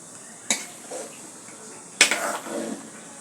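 A spatula stirs okra curry with catla fish head in a cooking pot, giving two sharp, close metallic clinks about a second and a half apart, each followed by soft scraping and shuffling.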